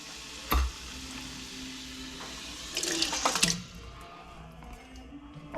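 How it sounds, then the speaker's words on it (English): A thin stream of water runs from a kitchen tap into a tomato container while cooking vegan chili. It is a brief, moderately loud splashing gush lasting under a second, with quieter kitchen clatter before it and no voices. "run a little stream of water and just use it to get the last of the good tomatoes out of there"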